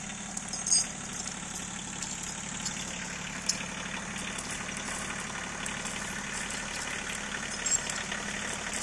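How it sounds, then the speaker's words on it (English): A tractor engine runs steadily at a low idle-like rumble while hitched to pull a felled tree up through the woods, a continuous moderate drone with faint outdoor noise and no talking. "Dang, you're pulling the tractor backwards"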